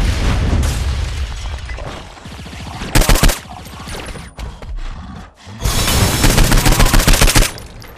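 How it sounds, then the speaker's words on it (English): Loud video-game gunfire in Saints Row 4 with no voices: a dense, steady barrage of shots runs for most of the stretch, broken by sharper bursts and booming impacts, then a heavy, continuous volley near the end. "Then you can shoot him"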